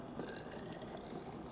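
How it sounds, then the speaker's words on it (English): Boiled water is poured into gelatin powder, making a soft, continuous liquid trickle that stays faint and close the whole time. "I put the content of the gelatin pouch, and I add the water"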